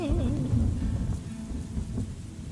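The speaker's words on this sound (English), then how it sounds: "The rain actually does hide your sound." Rain and thunder ambience plays during a Pathfinder tabletop roleplaying session: a steady wash of rain with deep rolling thunder rumbling underneath, fairly loud and unbroken.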